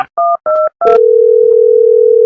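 A phone call being placed: a few short paired keypad beeps, then a steady continuous dial or ringing tone that holds loud and clear to the end, with no talk.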